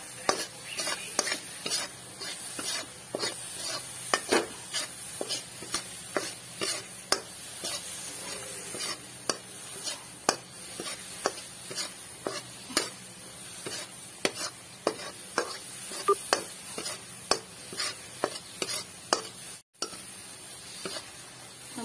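Dry milk burfi mixture being stirred in a pan, with steady repeated scraping strokes and a soft sizzle throughout, close and alone.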